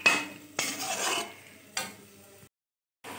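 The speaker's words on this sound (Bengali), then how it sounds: "সুন্দর করে এখন কষিয়ে নেব মাংসটা" Chicken and potatoes are sautéed in a pot with a few distinct spoon scrapes and stirring sweeps over a light sizzle. The last one breaks off into a short silence before the sizzle resumes, all close up and with no talking.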